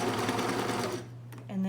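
A sewing machine stitches fabric for a face mask with a steady, close whirring hum, then slows and stops partway before a brief mechanical whir resumes.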